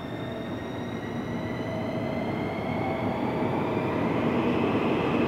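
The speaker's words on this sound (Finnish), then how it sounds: "Kuvaa vielä tämän metron, kun tämä lähtee." A Helsinki metro train rumbles and whines as it pulls away from the station, a steady loud roll with rising tonal hums, no voices.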